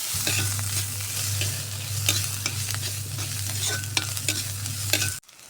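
Green chilies being stirred into soya roast frying in a pan, with a continuous sizzle and crackle over a low steady hum and repeated spatula scrapes, close and loud, cutting off abruptly at the end, no voices.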